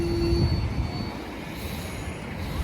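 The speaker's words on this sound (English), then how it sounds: "Is the train stopping again?" Train moving along a railroad at Glenview, Illinois, with a steady close rumble of rolling wheels and a brief high squealing tone at the start, continuing evenly throughout.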